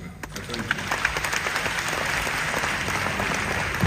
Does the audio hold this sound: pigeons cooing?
no